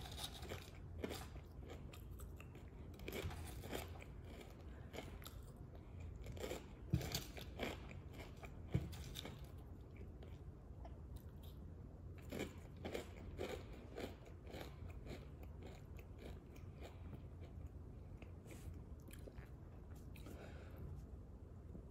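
Doritos tortilla chips crunch sharply in a close mouth, with irregular bites and quieter chewing between them in a hushed, intimate setting.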